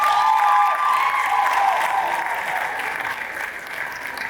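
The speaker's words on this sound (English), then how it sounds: "Can we clap for her, please?" An audience at a film premiere for Anikulapo: Rise of the Spectre applauds loudly and continuously, with crowd noise and a brief high tone near the start; the applause gradually thins toward the end.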